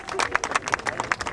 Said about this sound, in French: Applaudissez-le, il a glissé sur l'air comme un roi